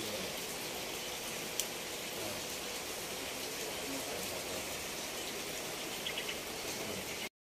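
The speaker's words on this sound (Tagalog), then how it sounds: "So, ayan na guys. Nag-ulan na." Steady rain hisses evenly throughout, a dense continuous patter at moderate distance, with no voices, cutting off abruptly near the end.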